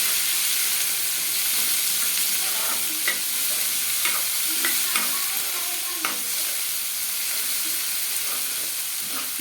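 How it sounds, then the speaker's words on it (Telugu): Thinly sliced onion sizzles steadily in a pan with a constant bright hiss, broken by occasional scraping clicks of stirring, close and fairly loud with no talking. "సన్నగా ఒక ఆనియన్ కట్ చేసి పెట్టానండి, అది వేసుకుందాము. ఫ్రై చేయాలండి."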